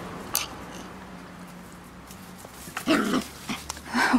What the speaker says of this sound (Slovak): Pes môj.